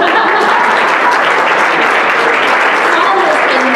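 An audience applauds a speaker coming up to the stage, loud, dense, steady clapping from a crowd filling the whole moment without pause.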